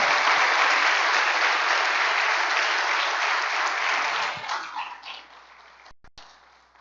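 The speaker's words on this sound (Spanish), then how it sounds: "Vamos a aplaudir, por favor, con fuerza." A church congregation claps steadily and loudly, then the applause thins out and fades to scattered claps near the end.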